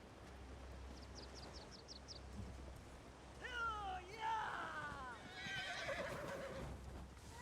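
Horses whinny in the Elder Scrolls Online, several rising, wavering neighs in the middle and latter part, preceded by a few faint clip-clop-like taps, all over a busy game soundscape with voices talking.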